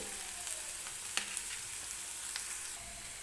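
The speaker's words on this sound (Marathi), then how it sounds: "मी कांदा जो आहे तो व्यवस्थित तेलामध्ये परतून घेते." Onion frying in oil in a pan, a steady close sizzle with a few faint utensil clicks, no voices.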